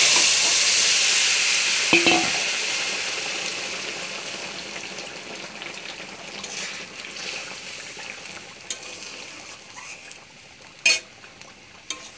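Chicken sizzles loudly in a hot pan at first, the hiss slowly settling and fading, with a few clinks of a utensil near the end.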